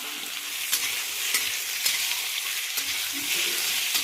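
Taro and potatoes frying in hot oil in a pan over a wood fire, a steady crackling sizzle with occasional sharper pops and stirring scrapes, continuous and fairly close.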